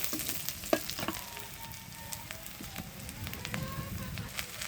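Onions fry in a pan with a soft, crackling sizzle throughout, forming the base of a spicy Malabar spinach and dried fish mash; a few light stirring clicks sound close by.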